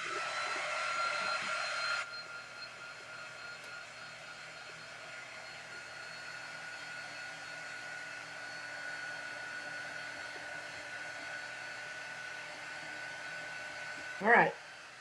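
A hair dryer used on a craft piece for an autumn tiered tray runs with a steady, constant whir for the whole stretch, louder at first and then slightly softer, and ends with a brief knock.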